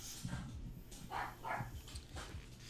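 A dog barks outside, faint and distant, a few separate woofs and yips spaced over a couple of seconds in a quiet room.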